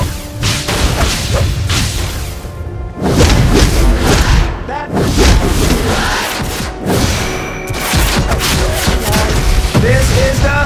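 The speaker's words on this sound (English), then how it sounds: "You're gonna go. Go with a big kaboom." Explosions in the video game DC Universe Online, with heavy booms and crashing blasts coming in loud, dense bursts that fill the whole stretch, separated by brief dips between detonations.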